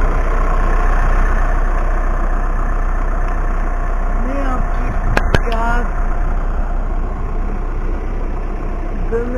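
A car engine idles steadily with a low, continuous rumble, close by and unchanging, while a voice speaks briefly over it.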